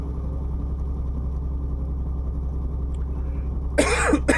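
A person coughs twice in quick succession near the end, loud and close, over a steady low engine hum from a truck simulation game.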